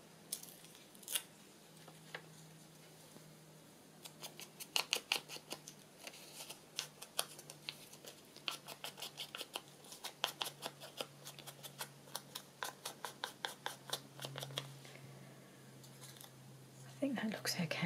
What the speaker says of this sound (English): Having gone to that all the trouble cutting that one out, tearing it out.